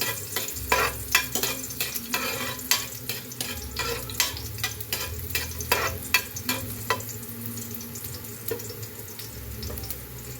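Garlic and onion sautéing in a pan, with a steady sizzle and frequent sharp scraping, tapping stirs, close by and moderately loud, softening toward the end.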